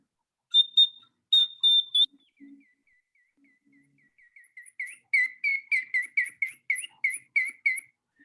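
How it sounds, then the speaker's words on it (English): A water-filled bird whistle gives a few clear piping notes, then warbling chirps that build into a fast, bubbling trill, bright and up close in an otherwise quiet room. "this is the little bird whistle"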